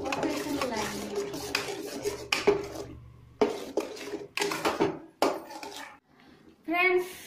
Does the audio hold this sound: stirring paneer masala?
yes